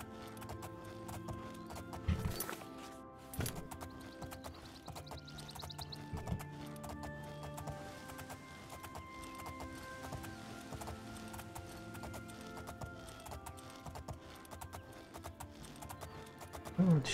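Horse hooves clip-clop steadily in the video game Oblivion, a repeated trotting rhythm with occasional whinnies amid game music and ambient sounds.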